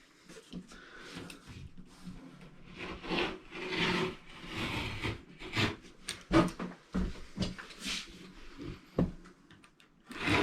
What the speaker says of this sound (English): So I'm just going to cut along that corner all the way around the perimeter.